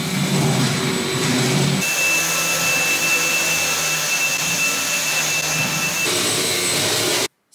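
A household vacuum cleaner runs steadily and loudly at close range, a continuous whooshing roar with a high whine that shifts tone partway through, then cuts off abruptly at the end.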